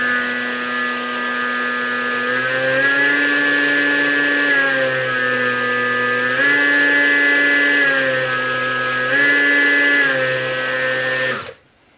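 A flight controller's small motor runs with a steady harmonic whine and hum, pitch shifting slightly in a few steps, then cuts off abruptly near the end when the flight is terminated.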